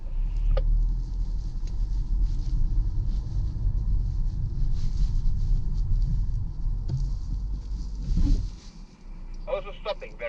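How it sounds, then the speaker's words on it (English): A 2018 SEAT Leon ST X-Perience 4Drive estate creeping forward in snow on an uphill off-road slope, its engine a steady low rumble with tyre and body noise, heard from inside the cabin; a person speaks over it. "now very gently, centimeter by centimeter, move the car forward"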